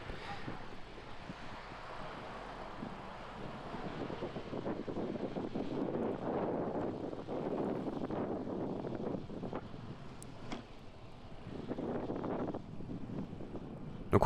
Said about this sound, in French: sur ce jour-là, il y a pas mal de vent